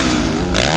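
A Husqvarna motocross motorcycle races by in a loud, brief burst of high-revving engine noise during a heat at a motocross championship.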